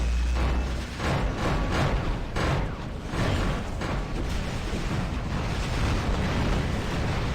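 Plasma shotgun blasts in the War Robots video game, a series of loud booming bursts in irregular succession over a rumbling game background.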